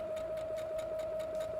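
A sewing machine stitching fabric for a house-shaped cushion, its needle running at a fast, even rhythm with a steady tonal whine, close and continuous, no voices.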